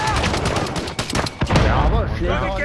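Rapid bursts of automatic gunfire crackle loud and close in a Call of Duty Warzone firefight, several volleys clustered together, with brief voice fragments mixed in.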